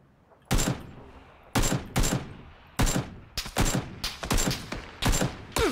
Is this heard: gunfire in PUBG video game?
yes